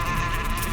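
Bees hum around a beehive in a forest, a steady close insect buzz filling a brief moment with no other sounds.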